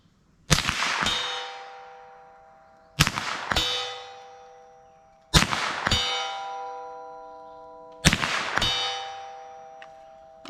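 Four evenly spaced .22 Long Rifle shots from a Winchester Xpert rifle, each a sharp crack followed almost immediately by the bright, ringing clang of a metal target that decays over a couple of seconds; no talking.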